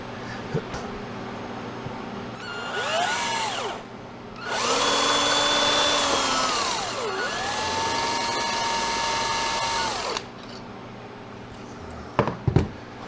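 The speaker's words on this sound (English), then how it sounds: "I'm going to drill into that" A power drill whirs in two long bursts, its pitch dipping and rising as it bites, with some clattering before and after.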